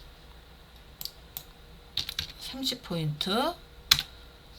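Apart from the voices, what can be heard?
computer keyboard typing and pressing shortcuts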